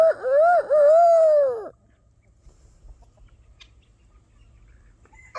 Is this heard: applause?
no